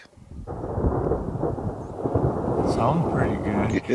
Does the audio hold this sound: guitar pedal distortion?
no